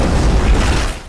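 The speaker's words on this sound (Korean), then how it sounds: "그리고 우르반의 대포 공격을 시작으로" A deep, loud boom like a cannon blast from a siege film, Urban's great cannon firing on Constantinople's walls in 1453, heavy low rumble filling the whole moment before fading slightly.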